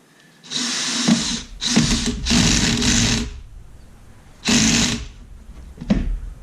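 Power drill driving screws into wood while building a floating bookshelf, with several whirring bursts of about a second each separated by short pauses, close and loud.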